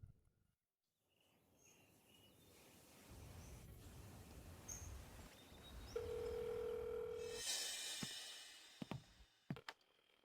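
A phone call ringing unanswered, with a faint electronic tone over quiet background noise and a few brief clicks near the end.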